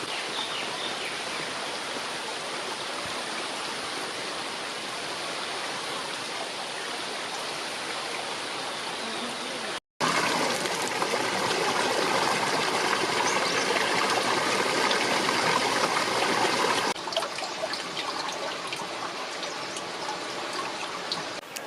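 A mountain stream flows along the Kedarnath national road at Tilwara in Rudraprayag, giving a steady, close, full rushing of water that continues unbroken apart from a brief cut and shifts slightly in tone partway through.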